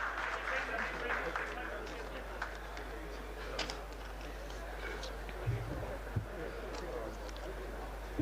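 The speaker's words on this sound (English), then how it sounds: "Can we have a very big round of applause once again?" Audience applause at a university chemical engineering jubilee function, a dense patter of clapping with scattered sharper claps that carries on at a moderate level across the whole stretch, with voices mixed in.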